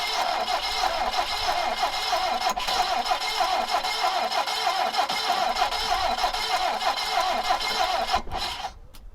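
A 1974 BMW E12 520, not run for over ten years, cranks and tries to start, a steady rapid churning whir of the starter with a rough engine note, close and continuous before cutting off at the end.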